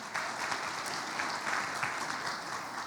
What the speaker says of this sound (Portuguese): Uma salva de palmas aqui para os nossos atores.